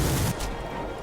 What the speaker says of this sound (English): Let's shoot him up.